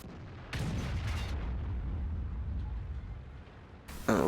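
A T49 tank in World of Tanks fires its gun once, a loud broadband boom that hangs as a rumbling, reverberant tail lasting several seconds, with a second sharp blast starting near the end.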